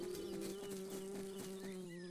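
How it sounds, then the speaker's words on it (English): A honeybee hovering at a honeysuckle flower in a garden gives a steady, close, sustained buzz with a clear droning tone, heard alone without talk. "It's the honeybee."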